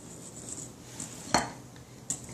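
A spoon stirs caramel ingredients in a microwave-safe bowl, giving a few soft scrapes and one or two sharper clinks against the side. It is quiet and close, with no talking.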